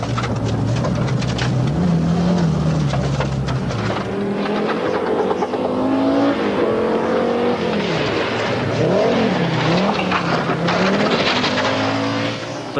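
An Audi Quattro coupe rally car with a punctured right front tyre races along a 2.3-mile stage, its engine loudly revving and shifting through rising and falling pitches, with tyre noise and a rough rumble throughout.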